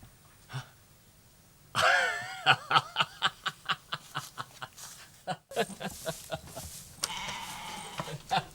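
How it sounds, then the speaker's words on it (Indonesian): A cloned goat bleats over and over in a quick series of short, wavering cries that come one after another at a steady pace, close and clear, with no other sounds around it. "Aku yakin cloning kambing ini lebih sempurna dari cloning Jan Wilmut dari Skotlandia"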